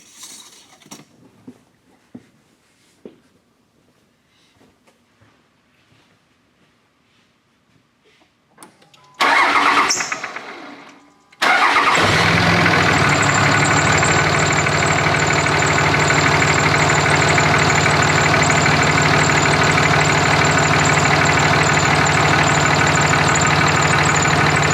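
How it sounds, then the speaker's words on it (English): A 2005 Dodge Cummins diesel pickup cranks briefly, then fires and settles into a loud, steady idle with a constant rumble and clatter, after a stretch of faint quiet shop noise. "Now I'm going to go ahead and start it up"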